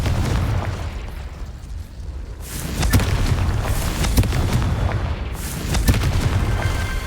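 Confringo blasting-curse explosions in the game Hogwarts Legacy, several loud booming bursts over a continuous rumbling battle background, with sharp impacts near 3, 4 and 6 seconds.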